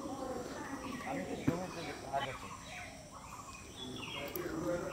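Orange-headed thrush chicks and adult calling at a loosely built nest at Purbasthali, with faint high chirps scattered through steady background noise and low murmuring.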